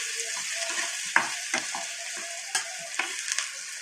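Tempering sizzles and crackles in a hot pan for buttermilk rasam (majjiga charu), with a steady frying hiss and several sharp stirring scrapes and clinks of a spoon against the pan.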